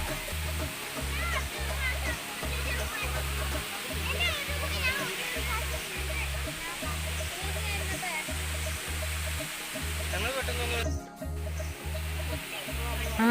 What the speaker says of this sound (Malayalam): കണ്ടോ, അരീക്കൽ വെള്ളച്ചാട്ടത്തിൻ്റെ ഏറ്റവും മേളിലാണ് നമ്മളിപ്പോൾ നിൽക്കുന്നത്.